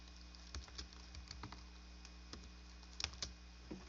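Keystrokes on a computer keyboard, entered while working through a function transformation exercise, come as scattered soft clicks in irregular bursts, quiet and close, with a faint steady hum underneath and no voice.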